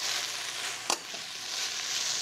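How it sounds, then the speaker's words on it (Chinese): Shiitake mushrooms, scallions and diced bell pepper with pork cubes stir-fry in a wok, a steady hissing sizzle broken by one sharp scrape of the spatula, with no talking. "好，香菇一样让它炒"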